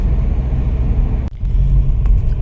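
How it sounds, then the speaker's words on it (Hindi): Street traffic in Amritsar, a loud low rumble of engines and vehicles close by, with a brief dip midway and faint clicks, no speech. "अमृतसर के ट्रैफिक में आपका स्वागत है।"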